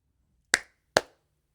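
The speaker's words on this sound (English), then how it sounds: "clap twice." Two sharp, crisp hand claps ring out about half a second apart in a quiet room, each decaying quickly with no talking around them.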